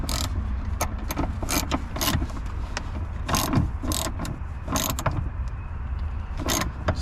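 A ratchet tightens a 10mm nut on the wiring of a Hotlicks flame kit installed on a Nissan G35. Repeated short clicking bursts come in uneven spurts over a steady low background hum, with no talking.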